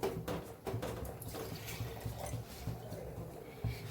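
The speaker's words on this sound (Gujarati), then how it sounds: "હવે આપણે 1 વાટકી જેટલું પાણી ઉમેરશું" Faint splashing and trickling of about a bowl of water being poured into a pot of kadhi batter, low-level and close, with small clinks and drips throughout.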